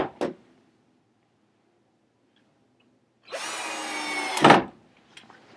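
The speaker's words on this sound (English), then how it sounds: "This one, I can put a decent amount of screws in." A power driver putting screws in during vacuum shop work, a short click at the start, then after a pause a loud, close buzzing run of about a second and a half that ends in a sharp thud.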